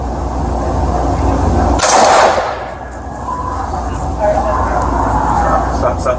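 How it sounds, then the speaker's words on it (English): A suspect fires a gun at police outside a residence: a loud, sharp burst near the two-second mark stands out over steady engine-like rumble and radio noise, followed by quieter background with officers talking. "We have shots fired."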